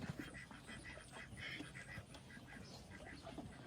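Ducks on a Tennessee farm quack in a quiet, repeated series at a moderate distance over soft outdoor background noise.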